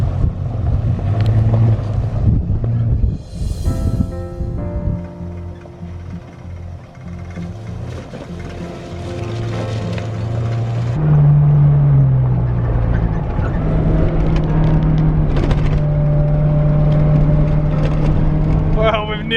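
A V8 Land Rover Discovery 4WD drives up a road, its engine droning steadily and rising in pitch as it gathers speed, with wind buffeting the microphone and people talking over the noise inside the cabin.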